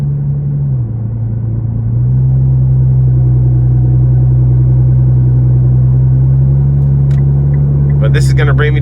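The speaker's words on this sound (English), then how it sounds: "that exhaust is just so nice." A 2014 Nissan GT-R Premium with an 1100 horsepower upgrade cruising on the road, its exhaust a steady low rumble that dips briefly and then holds constant, loud and close, with a few faint sharp interior noises near the end.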